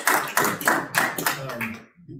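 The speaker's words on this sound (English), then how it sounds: "Another round of applause." Applause follows a talk by an athletic director at a school event, heard as a run of fairly loud, rhythmic claps that fade out abruptly near the end.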